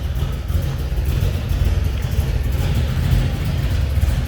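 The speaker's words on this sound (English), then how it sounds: "Nice little low idle out of that 340" A 1971 Dodge Challenger R/T with a numbers-matching 340 four-barrel V8 and four-speed idles low and steady, a close, continuous deep rumble with no talking over it.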